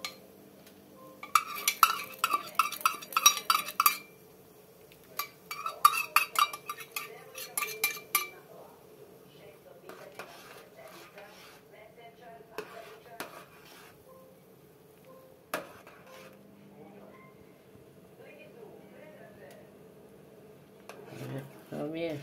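A spoon stirs homemade vegetable soup in a pot, giving clinking, scraping bursts in two clusters early on. After that comes a long quieter stretch with occasional single taps and a low background hum, and someone speaks at points.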